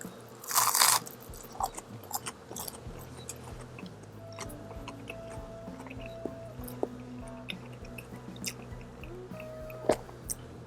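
Someone bites into and chews a griddle-cooked Blackstone tuna melt with pickles, a loud crunch up close at the start, then softer wet chewing and faint squishy mouth sounds.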